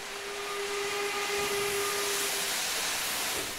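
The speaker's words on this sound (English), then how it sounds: "You want loud, noisy, beautiful steam trains." An LMS Black 5 steam locomotive in Train Simulator 2016 on the Sheerness branch line gives a broad, loud steam hiss with a faint steady whistle tone underneath that fades out near the end.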